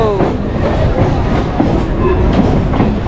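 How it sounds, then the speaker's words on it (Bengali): A train entering Howrah station rumbles steadily with rhythmic clickety-clack of wheels on rails, loud and close, as carriages roll past. "আর একটা ট্রেন ঢুকছে দেখতে পাচ্ছো এখন হাওড়াতে"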